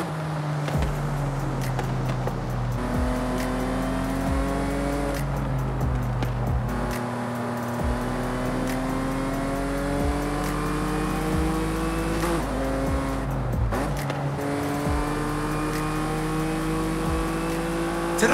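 A Land Rover Velar is driven on the road in Forza Horizon 5, its engine rising and falling steadily through repeated gear changes, with close, continuous revving and brief tire noise.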